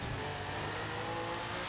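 A flat engine revving hard during a burnout in the Forza racing game, a sustained loud roar with dense tire noise, continuous and close, with no talking.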